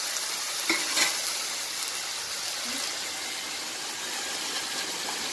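Grated tomatoes and urad dal fry steadily in a pan over a medium flame for an Uttarakhand dal dish, a constant close sizzle with a few scraping stirs early on and no voices.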